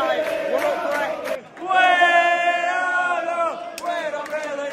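Large football stadium crowd at a Chelsea versus Manchester City match, a loud mass of voices booing and jeering with swelling chants and cheers, sustained and close throughout.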